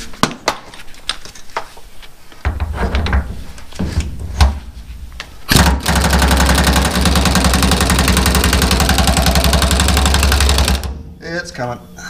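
Air impact gun working on a tie rod end during an inner and outer tie rod replacement, with a few short bursts followed by a long sustained hammering run of several seconds, loud and close, with tool clatter around it.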